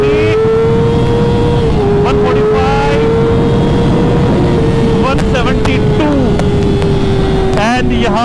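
A Kawasaki ZX6R motorcycle accelerating hard through the gears on a road holds a strong, steady high engine drone for about eight seconds, with brief dips in pitch at the shifts and rushing wind noise underneath.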